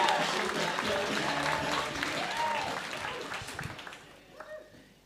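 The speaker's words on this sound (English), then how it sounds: "What's the cheers for Serge Campbell?" A comedy-night crowd cheers and claps for comedian Serge Campbell as he takes the stage, a busy mix of clapping, whoops and voices that gradually thins out and fades.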